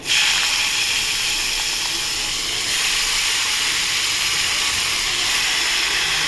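Chopped ash gourd drops into hot tempering in a pan for a Bengali mung dal dish and sets off a loud, steady, close sizzle. The hiss holds evenly throughout, with no talk.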